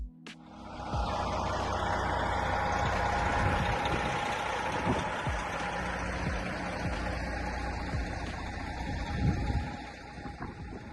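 A Detroit Series 60 diesel engine idles in a 1997 Prevost Country Coach 40-foot motorhome, starting with a sharp onset then holding a steady, low, droning rumble with a faint whine for several seconds.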